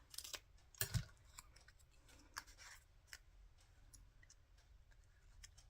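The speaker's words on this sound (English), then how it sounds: "I think it just needs to be cut a little bit more again." Scissors trim a small paper element for a vintage-style art journal page, giving a few quiet, close snips and clicks spread across several seconds in an otherwise hushed room.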